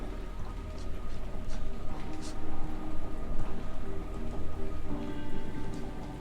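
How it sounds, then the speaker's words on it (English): Rain pours steadily through a building in the game Sherlock Holmes: The Awakened, making a dense continuous hiss with a low rumble underneath and scattered drips and patters. "It's just rain through the building."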